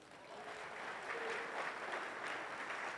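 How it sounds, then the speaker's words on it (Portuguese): A church congregation applauds during a sermon, the faint, somewhat distant clapping swelling gradually and holding steady. "Você pode aplaudir a Ele?"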